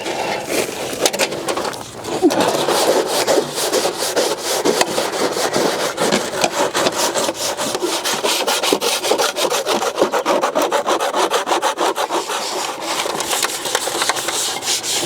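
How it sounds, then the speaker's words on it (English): Steady, close scrubbing on a Masterbuilt Gravity Series grill coated in degreaser, a continuous rough brushing rasp with a brief pause near the two-second mark, then unbroken strokes to the end, with no talking. "Let's give it a good scrub. Get some more degreaser on it."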